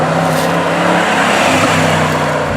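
A 2017 Jaguar XJ Supercharged accelerates hard, its engine droning loudly and steadily with rising revs and heavy road and wind roar, heard from inside the car without talking.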